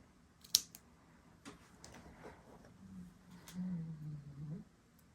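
Scissors cutting while working on a diamond painting craft kit: one sharp close snip near the start, then faint paper handling and low rustling in a quiet room.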